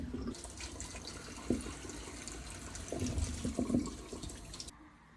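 Freshly picked Mirabelle plums being washed in water: gentle sloshing and splashing with soft knocks of fruit, steady and close, with no talk.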